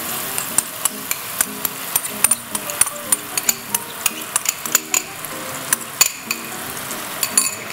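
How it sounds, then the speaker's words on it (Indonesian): Oyster mushroom paste frying in a pan, a steady sizzle under regular scraping taps of a utensil stirring, close and continuous with no talk. "Masukkan paste cendawan tiram."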